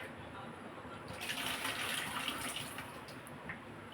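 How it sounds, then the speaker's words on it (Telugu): Tap water runs steadily into a sink while peanuts are washed for a spinach-and-peanut pakoda snack, a moderate splashing flow that swells after the first second. "ఈ పల్లీలు కూడా పల్లీలు కూడా కడిగేస్తాను"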